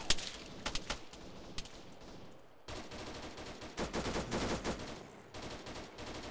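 Bursts of 7.62 rifle fire in a night zombie battle in Arma 3: sharp, loud cracks in quick volleys, a pause, then longer rapid strings of shots, with no talk.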